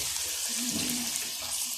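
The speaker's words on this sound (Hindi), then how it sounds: "थोड़ा सा पानी डाल लेंगे" Water poured briefly into a pan of chicken and cabbage curry, a soft hissing splash over a faint kitchen background, short and close.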